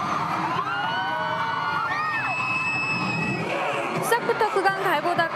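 A crowd of fans cheers and screams continuously at a K-pop concert, with high-pitched shrieks rising over a dense, steady roar.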